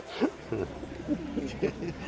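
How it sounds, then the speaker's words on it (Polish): Pigeons coo at an outdoor animal market in Łomża, Poland, with several soft, low, throaty calls repeating close by. "Bezcenne gołębie."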